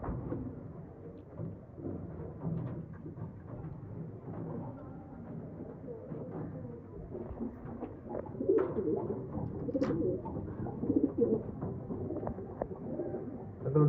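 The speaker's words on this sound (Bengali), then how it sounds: "এগুলো নর পায়রা," Male pigeons, including kalangka and malwai birds, coo in low repeated throaty calls close by, overlapping softly against a faint background rumble.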